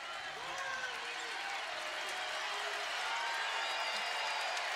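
At a college basketball game, the arena crowd cheers with a steady roar of many voices that holds evenly throughout, while a commentator talks over it.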